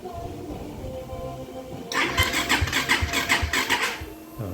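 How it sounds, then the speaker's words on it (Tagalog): A Suzuki Raider Fi motorcycle engine cranks and catches after a quiet stretch, then runs with a loud, rough, pulsing idle that wavers up and down before settling slightly lower. "I-start na natin."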